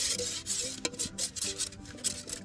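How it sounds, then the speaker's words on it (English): A spoon scraping the sides of a cooking pot while camping in a tent, using the back of the spoon: quiet, repeated rubbing and rasping strokes with a metallic clink partway through, no voices. "And then he scrapes the sides, Using the back side of the spoon."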